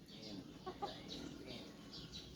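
Backyard chickens cluck and murmur softly, with a few short calls standing out against quiet outdoor ambience, faint and somewhat distant, with no talk.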